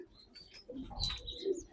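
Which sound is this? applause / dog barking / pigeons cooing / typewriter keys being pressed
pigeons cooing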